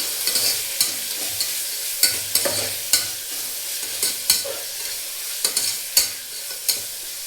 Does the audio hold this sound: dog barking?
no